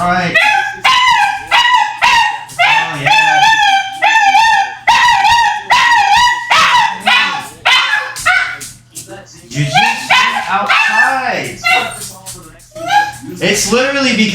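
A dog barks and howls close by in a loud, continuous stretch of wavering, drawn-out howls broken by sharp yips and barks.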